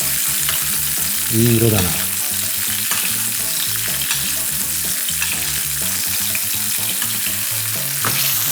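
Roast beef sears in a tilted frying pan while hot oil is spooned over it, giving a loud, steady, crackling sizzle throughout; someone briefly speaks over the frying.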